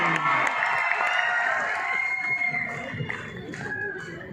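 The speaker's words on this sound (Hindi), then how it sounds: "हाथ खड़े करें। जोरदार तालियां।" Festival audience at Kurukshetra University's Ratnawali 2022 cheering and clapping, a lively crowd roar with whoops and shouts that stays steady throughout, with voices mixed in.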